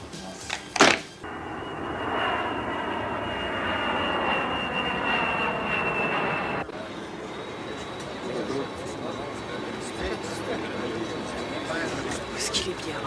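Inside an airplane, a loud steady engine roar fills the cabin, broken by a brief thump early on, then a sudden shift to a lower, rougher drone with a faint whine above it.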